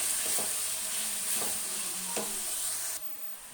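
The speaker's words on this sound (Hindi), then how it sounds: "और साथ ही इसमें हरी मिर्चें भी ऐड कर देंगे, और अच्छी तरह से टमाटरों को भूनेंगे।" Tomatoes and green chillies fry in a pan, a steady close sizzle with a few scraping stirs, the hiss dropping sharply near the end.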